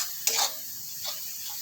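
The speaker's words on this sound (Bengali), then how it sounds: "সামান্য পরিমাণ নুন দিয়ে ভালো করে ভেজে নেব।" Spices with salt frying in oil, a soft steady sizzle with two brief scraping stirs of a spatula.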